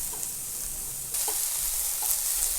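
Zucchini sizzles and fries in a pan for vegan bibimbap, a soft, continuous crackle that jumps a little louder after a second, with faint stirring clicks and no talking.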